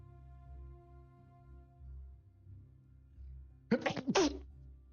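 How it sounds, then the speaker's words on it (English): A single sharp human sneeze in two quick bursts, loud and close, rising suddenly out of a quiet background hum of soft game music. "Sorry, I had to sneeze there."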